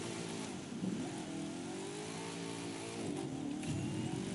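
A small buggy's engine drones continuously while drifting in the racing game The Crew 2, its pitch rising and falling as it revs, loud and steady with no talking.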